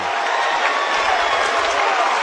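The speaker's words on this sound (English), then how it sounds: "Listen to this crowd. It's thunderous here today." Crowd at a boys' Class 2 high school basketball quarterfinal: loud, dense, sustained cheering and applause filling the gym, with a continuous roar and no break.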